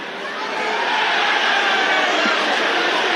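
A football stadium crowd at a Premier League match between Manchester City and Newcastle United jeers Newcastle's Dan Burn after a second yellow card, rising into a steady, loud massed roar.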